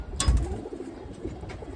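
A male pigeon murmurs low, throaty coos close up, with a brief thump of handling at the start and little talk over it.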